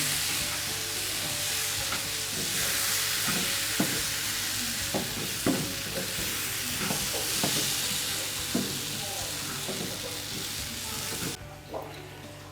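Semolina and date halwa mixture being stirred in a pan, with a continuous hiss of frying broken by repeated scraping strokes of the spoon at an uneven pace, close by, no talking.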